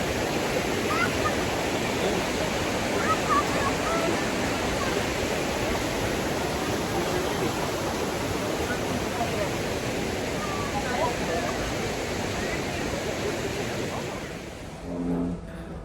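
A strong river current near Duden Waterfall in Antalya, Turkey, makes a loud, steady, broadband roar of rushing water that holds without a break until it eases slightly at the end.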